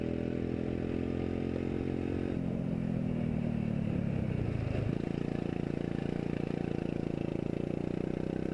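A go-kart engine runs a lap at Orlando Kart Center, a close, buzzy drone that drops in pitch as it slows into a corner, then climbs again as it accelerates out.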